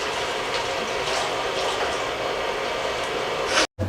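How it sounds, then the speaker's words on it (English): Tap water runs steadily into a sink as hands are washed in a kitchen, a loud continuous rushing splash that cuts off abruptly near the end before a brief low thump. "Let me wash my hands."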